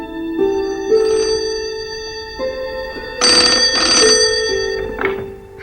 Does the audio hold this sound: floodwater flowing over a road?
no